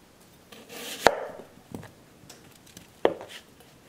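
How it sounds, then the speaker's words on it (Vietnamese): A knife slices onion on a cutting board for a lotus-root squid salad, with two sharp chopping knocks and some softer scraping strokes between them, close and clear. "Hành tây cắt lát"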